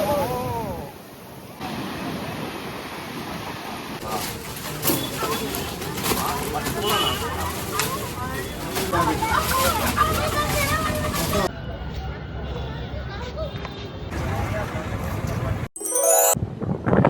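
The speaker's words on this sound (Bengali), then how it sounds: "এই পিছনে একটা বড় ঢেউ আসছে" Large ocean waves crash and surge on the beach at Puri, a roaring wash of surf with wind buffeting the microphone, while people talk and a crowd murmurs nearby throughout.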